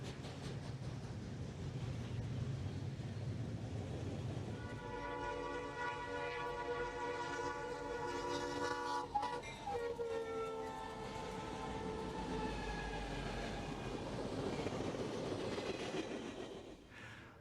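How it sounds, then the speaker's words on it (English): EMD diesel locomotives on Conrail's Chicago gateway route in 1996 roll past a station with a steady heavy rumble, while a loud, sustained multi-tone train horn sounds partway through and lingers over the passing cars. "There are plenty of EMD products rolling past the station."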